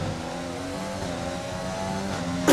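F1 race cars accelerating in the F1 2020 game at Russia, a layered high engine whine with several overlapping tones, steady and fairly close, with a short burst of noise at the very end.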